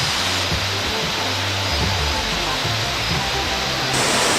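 Waterfall at Bermejo Waterfalls in Santa Fe, Panama, a steady, loud broadband rush of falling water that fills the whole clip without pause.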